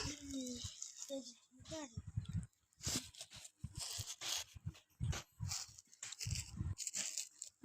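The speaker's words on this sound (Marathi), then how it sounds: "पिल्लू आवाज" A puppy whimpers close by in a home where rangoli is being drawn, with several short rising whines at the start, followed by scattered scraping and rustling noises.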